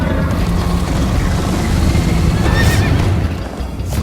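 A horse whinnies in the Minecraft: Story Mode game during a chase on horseback, heard as a bright wavering neigh near the middle of a continuous loud bed of galloping hooves and rushing game noise.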